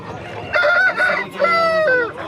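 A rooster crows loudly and close at a Saturday hen market in Mydukur, two drawn-out strained calls in quick succession over a steady background murmur.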